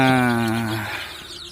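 Ayam ketawa chickens in a coop give a drawn-out harmonic call that starts loud and close, then trails off and fades, with no talking.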